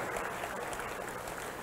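Conference audience applauding a talk on troubleshooting OutOfMemoryError, a steady wash of many hands clapping at moderate level with no voices over it.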